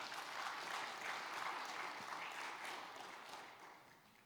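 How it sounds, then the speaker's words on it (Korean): Church congregation applauding in encouragement of a women's mission group, a steady wash of many hands clapping at moderate distance, fading slightly toward the end. "우리 격려의 박수로 함께 하겠습니다."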